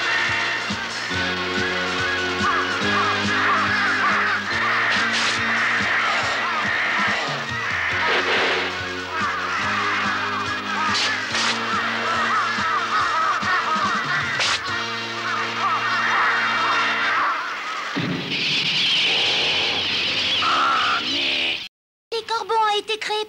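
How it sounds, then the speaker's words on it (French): Crows attack in a scene from The Wizard of Oz film, with loud harsh honking, quacking bird calls layered over orchestral music and voices, ending in a brief burst of noise and a sudden cut. "Les corbeaux ont été créés par la sorcière de l'Ouest"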